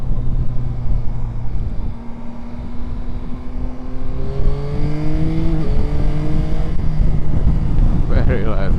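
A Yamaha Tracer 9 GT+ motorcycle engine accelerates in sport mode, its steady drone rising through the gears in a series of climbing pitch sweeps, loud and continuous under wind rush.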